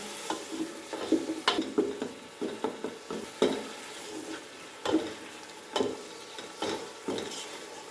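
Beef masala with yogurt is stirred in a hot pot for yakhni pulao, a rhythmic series of scraping spoon strokes and soft thumps over a low, steady sizzle, close by.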